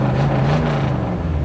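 A 1953 Mercury Monterey convertible's engine revs with a steady low hum as the car pulls away, close and fairly loud over its short span, with no voices.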